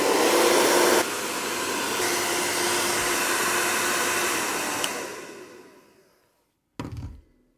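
An electric car's motor gives a steady high whir for the first five seconds, then winds down and fades to near silence before a brief low rumble at the end.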